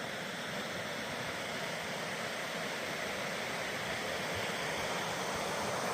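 Water rushes downhill in a stream in the Scottish Highlands, a dense, constant broadband roar, close and unbroken for the whole stretch.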